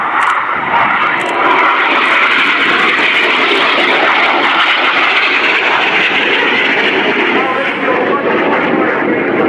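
RAF Red Arrows jets roar loudly and continuously during an air display at RIAT 2015, a broad rushing engine noise sustained for nearly ten seconds.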